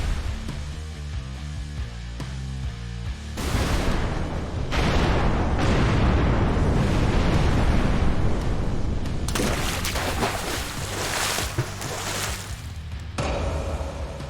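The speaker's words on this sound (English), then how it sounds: "heroes never look at their own explosions" Heavy rumbling booms and blasts roll over a droning musical background, loud and continuous with several sharp bursts.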